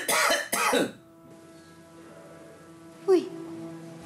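A person coughs twice in quick succession up close, followed by a quiet pause and a short vocal sound, in a scene from a Filipino sitcom.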